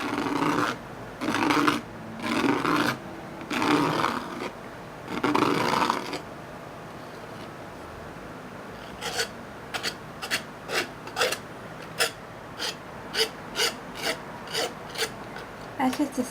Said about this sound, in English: That's just the sound of the scraper.